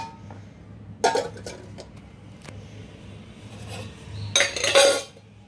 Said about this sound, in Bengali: তো কিছু টুকটাক ছোটোখাটো বাসন আছে, সেগুলো একটু ধুয়ে নিই